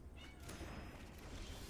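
A kitten shut behind a closed door lets out a short, muffled meow near the start, faint against a steady low background rumble.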